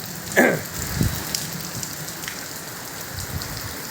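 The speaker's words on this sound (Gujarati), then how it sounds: "વરસાદ ચાલુ જ છે" Steady rain falls with a soft, continuous patter, and a couple of brief knocks and splashes nearby.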